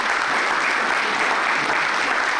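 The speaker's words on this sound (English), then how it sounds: "let's give our panelists a round of applause" A conference audience applauds its panelists at a summer conference session, a dense, steady wash of clapping that stays loud and even from start to finish with no talk.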